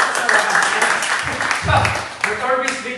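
Audience applause at a gathering in an office, a scattered crowd clapping continuously under someone talking, steady and moderately loud throughout.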